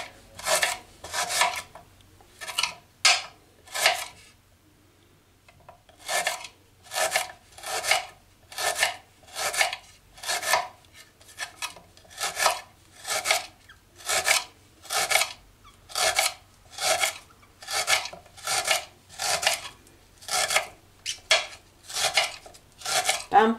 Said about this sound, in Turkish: Ve pırasalarımı doğramaya başlıyorum.